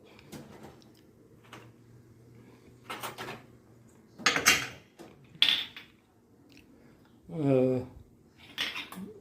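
A pressure cooker lid closes and its weight goes on, with several close metallic clanks and scrapes spread irregularly, some louder than others, and a brief voice murmuring between them.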